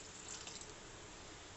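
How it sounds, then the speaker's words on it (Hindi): About half a glass of water is poured into a pot of chicken junglee pulao, making a soft, continuous splashing pour that is faint and short. "मैं तकरीबन आधा गिलास इसमें पानी डालूंगी"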